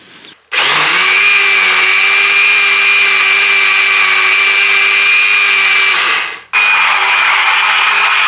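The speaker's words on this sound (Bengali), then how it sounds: "এগুলো আমি একসাথে ব্লেন্ড করে নিব।" A kitchen blender whirs loudly at high speed, blending cold milk for a lassi. It runs steadily for about six seconds, cuts out briefly and then starts again, close to the listener with no talk.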